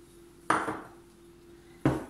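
Keto cheesecake crumble base being mixed with butter in a bowl, two separate sharp clinks of utensil against the bowl about a second and a half apart, close, over a quiet hum.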